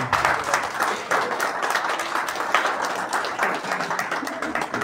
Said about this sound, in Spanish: Por favor, un voto de aplausos a la convención.